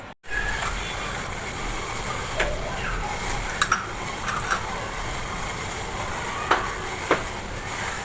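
Tea boils on a stove with a steady low hiss and soft bubbling, a few faint clinks and pops rising above it now and then.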